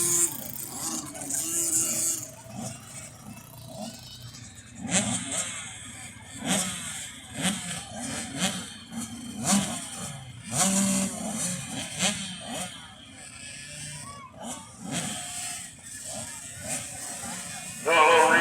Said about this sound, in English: This is heat number 1 of 3 in the 85cc bikes.